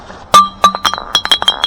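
Glass bottles picked from a canal during a litter cleanup clink together in a quick run of sharp, ringing knocks, the first strike loudest, followed by several lighter overlapping taps close to the microphone.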